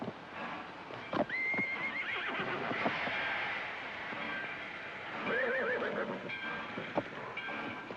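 A nervous horse beside a train whinnies loudly several times over a steady rail rumble, with a sharp hoof knock or two, close and clear.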